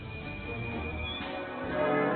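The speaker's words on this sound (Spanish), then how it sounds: "París se despierta con un ensordecedor ruido de campanas." Loud church bells ring over Paris on the morning of October 5 in a French Revolution retelling, a dense, continuous clanging wash that stays steady and swells slightly toward the end.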